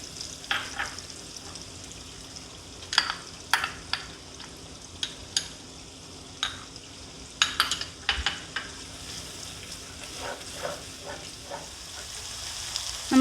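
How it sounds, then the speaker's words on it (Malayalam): Chopped green chillies and ginger garlic paste sauté with softened onions for a Kerala style chicken dum biryani, a steady sizzle broken by sharp spatula scrapes and stirring knocks, close and fairly loud, no talking. "നമുക്കിനി അരിഞ്ഞു വെച്ചിരിക്കുന്ന പച്ചമുളകും പിന്നെ ജിഞ്ചർ ഗാർലിക് പേസ്റ്റും ഇതിലേക്ക് ഇട്ട് കൊടുത്ത് വഴറ്റാം"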